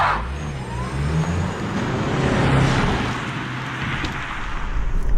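A 2022 Lexus ES300h F-Sport hybrid sedan on the move, with a steady, even drone of road and tire noise and a soft engine hum from inside the cabin, fairly loud and unbroken.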